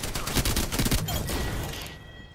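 Video game gunfire crackles in a rapid fusillade of overlapping shots, dense and loud, then trails off near the end.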